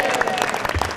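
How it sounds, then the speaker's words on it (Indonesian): A brief burst of audience clapping at a live motivational talk show, loud and close, lasting only a moment. "Kasih tepuk tangan dong"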